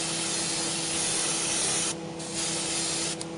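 A Liquitex spray can lays a protective coat on 40K terrain, a close, steady aerosol hiss broken by two brief pauses between passes.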